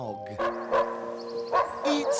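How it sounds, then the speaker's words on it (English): A dog barks in a series of short, loud yips and woofs, roughly four bursts spread across the moment, close and clear with a ringing tonal quality. "It's a dog."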